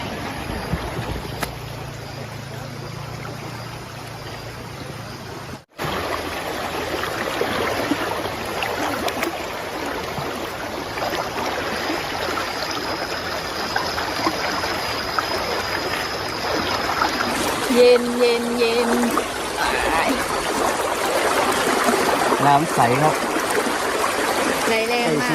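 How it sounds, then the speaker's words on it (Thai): Steady rushing water from a strong-flowing nearby stream at a riverside campsite in the rainy season runs throughout, a broad continuous wash with occasional louder splashes. "ติดลำธาร"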